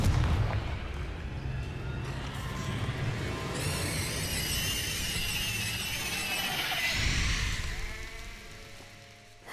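A Confringo fire spell bursts in Hogwarts Legacy, a sustained loud roaring blast with crackling and rumbling debris that fades away toward the end.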